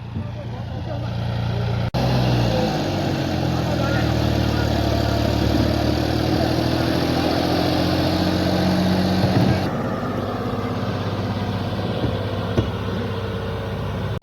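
A steady, rumbling tractor engine runs continuously at close range under heavy load while launching a small boat into the sea, droning throughout with a slight change in tone partway through.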